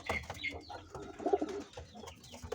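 Malwai pigeons in a loft coo in soft, low repeated calls with a few sharper chirps, close by and moderate in volume, with faint background noise and no clear talk.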